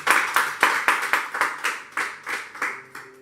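A church congregation at a Sunday service claps in unison to acclaim the Lord: about a dozen even, rhythmic claps close by, with no talking over them.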